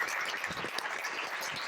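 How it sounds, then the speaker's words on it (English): Steady applause from an audience, dense clapping that holds at an even level throughout without pause. "Big applause."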